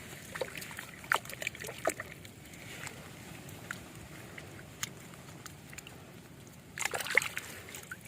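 Freshly dug arvi (taro) roots are washed in water in a field in Okara, giving irregular close splashes, sloshes and patters, busiest near the start and end, over a quiet background.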